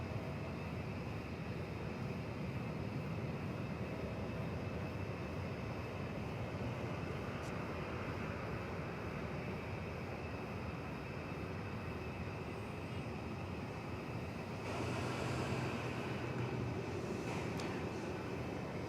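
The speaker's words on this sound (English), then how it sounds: "It's flight 1322, American Airlines, coming in from Denver, an Airbus" An American Airlines Airbus A321 arriving at DFW Airport gives off a steady, broad jet roar that holds at a constant level throughout, with no voices.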